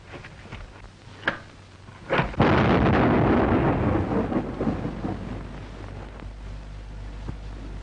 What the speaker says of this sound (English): Explosion. It got him.